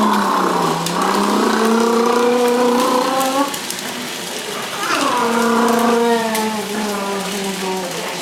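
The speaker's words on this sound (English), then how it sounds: "Start the car." A car engine starts and revs twice in rising, smooth pitched sweeps, loud and close, with a steadier hum between the two surges.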